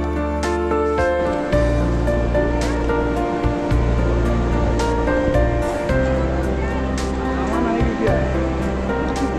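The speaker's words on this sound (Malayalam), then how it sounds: "കുറച്ച് താഴെ ഒഴുകുന്ന അളകനന്ദയുടെ ശബ്ദം നമുക്ക് കേൾക്കാം" The Alaknanda river rushes below a mountain trail near Mana village on the way to Vasudhara Falls, a continuous broad roar of flowing water with a steady hum and a voice speaking over it.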